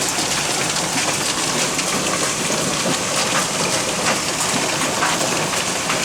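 Heavy rain mixed with hail pounding outdoors on a summer day, a loud dense continuous hiss and clatter with close rattling impacts and no voices.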